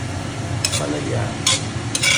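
Ampalaya (bitter gourd) frying in olive oil with garlic and onions, a continuous close sizzle with a few sharp scrapes of a utensil stirring the pan.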